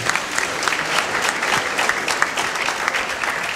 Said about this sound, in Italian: Bravi, applaudite.